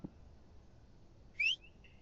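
A short, faint rising whistle, then a couple of brief thin tones, heard alone over quiet background hiss.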